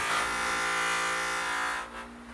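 Buffing wheel with red compound polishing a beat-up Harley exhaust, a steady high whirring grind that holds for about two seconds before dropping away.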